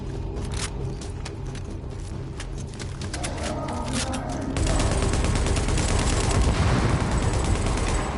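Gunfire in The Division video game, with rapid bursts of shots that turn into a louder, denser roar of blast and fire partway through, sustained to the end.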